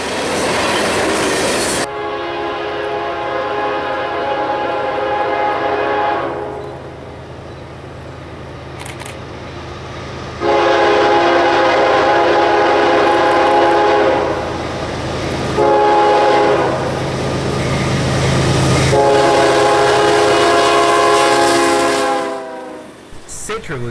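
CSX freight train K923, a northbound rock train in central Florida, rolls past sounding its horn in several long blasts over the steady rumble and clatter of cars, loud and close.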